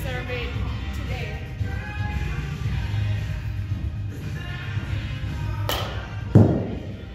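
A single sharp thud of a 2005 Easton CXN BBCOR baseball bat striking a ball rings out near the end, over steady low background rumble and murmur.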